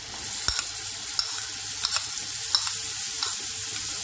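Onions frying in melted butter with a bay leaf and cardamom, a steady close sizzle with a few sharp spoon taps and scrapes against the pan, no talking.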